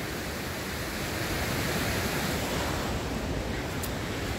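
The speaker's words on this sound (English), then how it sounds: "Fast flowing river at Devil's Bridge, Kirby Lonsdale." Fast-flowing river water at Devil's Bridge, Kirkby Lonsdale, rushing in a steady, dense, loud roar that never lets up, with no voices over it.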